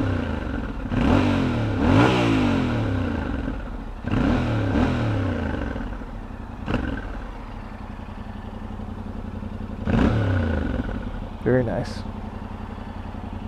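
Yamaha Tenere 700 with stock exhaust revs up in several sharp bursts from idle, each throttle blip rising and falling, with a short spoken comment in between.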